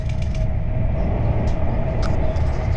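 A train passes close by on a British line between Bedford and Wellingborough, giving a steady, loud rumble with a constant tonal hum and a few faint high clanks.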